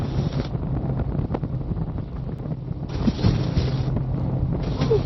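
Steady wind roars and buffets the microphone while riding Honda Gold Wing motorcycles along Highway 22/78, a loud, continuous rushing with surging gusts and no speech.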